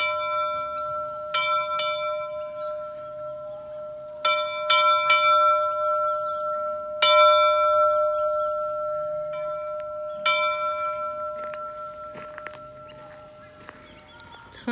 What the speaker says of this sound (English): Here's the school